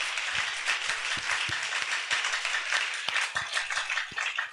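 A church congregation claps in steady rhythm to acclaim the Lord during worship, with dense, fairly loud clapping and a few low thumps underneath, no clear speech.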